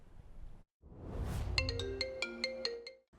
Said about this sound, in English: voters' phones are ringing off the hook.